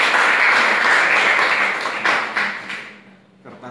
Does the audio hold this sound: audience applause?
yes